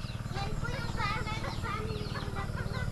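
Several chickens cluck and squawk close by in a busy stream of short calls, over a constant low droning hum.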